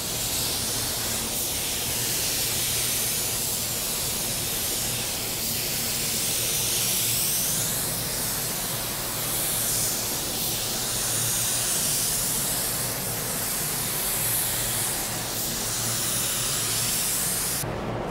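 Continuous hiss of a spray paint gun laying down a coat of paint, a steady airy rush with gentle swells as passes repeat, lasting about eighteen seconds without talk.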